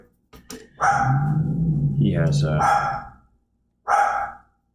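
A dog barks and yips in short bursts, with someone speaking over the barking.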